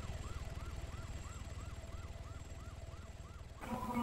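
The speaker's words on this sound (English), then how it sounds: "I don't know, I'm still hearing the sirens." An emergency vehicle siren wails in the video game Arma 3, a steady repeating up-and-down yelp heard faintly at a distance over a low rumbling engine, cut off by a brief louder sound at the end.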